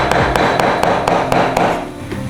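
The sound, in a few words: chopping mackerel fish skin on a cutting board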